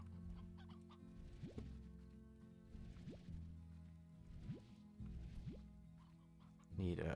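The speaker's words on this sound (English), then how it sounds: "Look at all those chickens." Chickens in the Slime Rancher video game cluck repeatedly in short bursts, each with a rising squawk, over a soft steady game backdrop.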